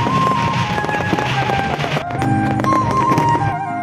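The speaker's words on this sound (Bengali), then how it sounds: "কাতারে এসে এই প্রথম আতশবাজি ফাটানো দেখলাম" Fireworks bursting over the Corniche in Doha, Qatar, a loud dense run of booms and crackles mixed with tonal whistles and crowd noise.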